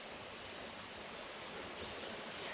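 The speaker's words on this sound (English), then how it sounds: "I'm over here where this water crossing is." Steady rushing water from a stream at a hiking-trail water crossing, a continuous broadband wash with no voices, fairly quiet and even throughout.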